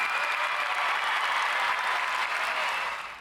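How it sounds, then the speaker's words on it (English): A comedy club audience in Winnipeg breaks into a dense, even burst of clapping and light cheering, full and close, sustained for a few seconds before starting to fade. "Round of applause."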